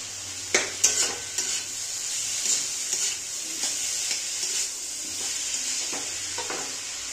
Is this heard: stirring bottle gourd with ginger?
yes